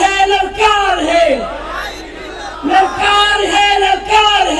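A large crowd at a religious address at Jamia Siddiqia in Karachi answers with the Takbir chant. Many voices shout in loud, surging bursts that rise, fall and return in a repeating rhythm.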